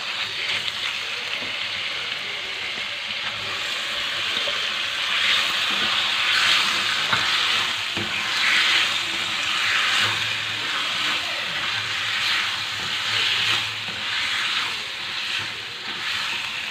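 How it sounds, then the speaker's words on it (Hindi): Chicken and sautéed onions fry in a pan with a steady, close sizzle and hiss, plus faint stirring sounds, with no talking. "ये देखिए प्याज सौते हो गया है, इसका कलर हल्का चेंज हो गया है। अब हम इसमें चिकन डालेंगे।"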